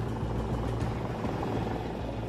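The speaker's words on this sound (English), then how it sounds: "They divert a helicopter, which was taking tourists on a sightseeing tour, to track the jet's movements." A sightseeing tour helicopter flying over New York City's Hudson River produces a constant, close, loud rotor and engine drone with a steady low throb, unbroken for the whole stretch.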